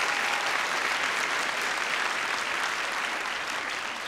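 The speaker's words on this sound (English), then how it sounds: "And now a round of applause for all of the people we've introduced." Audience applause at a Hofstra University scholarly excellence celebration, a steady dense wash of clapping from a large crowd that holds for about four seconds before easing slightly.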